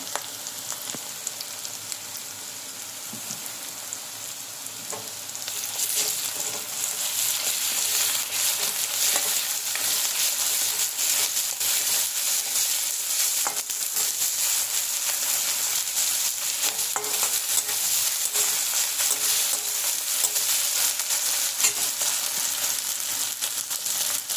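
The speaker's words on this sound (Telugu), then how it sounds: "ఇప్పుడు మనం గార్లిక్ పేస్ట్ కూడా దాంట్లో మిక్స్ చేస్తున్నాం" Garlic paste being stirred into dry fish and brinjal curry frying in a pan, a steady loud sizzle that swells after a few seconds, with scraping stir strokes throughout and no voices.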